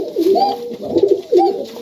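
Highflyer pigeons in a Rajshahi loft coo in soft, rolling calls, two or three throaty phrases repeating close by in cool winter weather.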